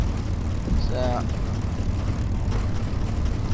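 A P-51D Mustang's propeller engine rumbles steadily while taxiing over dirt in the A2A flight simulator, a continuous low drone under brief speech from a man.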